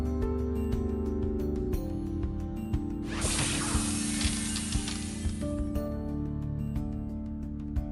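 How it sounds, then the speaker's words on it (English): Cartoon hairspray ray of doom firing, a bright sustained hissing spray blast lasting a few seconds over busy background music. "the maniac returned with her hairspray ray of doom to freeze the power ponies in place."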